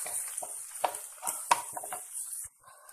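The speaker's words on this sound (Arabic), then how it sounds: "نضيف فيه شامبينيون ندوزهم مليح هكذا جا مع الثوم" Mushrooms sautéing with garlic in a pan, with a faint steady sizzle under a series of scraping, stirring knocks from a utensil, quiet and close.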